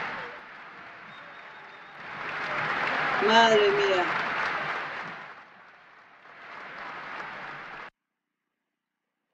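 Audience ovation after a 1975 concert performance of a closing song: a broad wash of applause swells, fades and returns in a second burst before cutting off, with a voice speaking over it.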